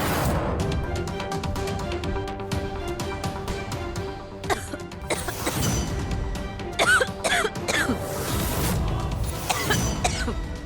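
A woman coughs repeatedly in loud, close, harsh bursts, with short pauses between fits and a heavier cluster of coughs toward the end.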